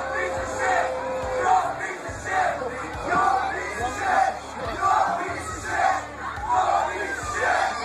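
A concert crowd of disappointed rock fans chants and yells its disapproval at a drunken frontman, a loud rhythmic mass chant repeating in steady pulses for the whole stretch.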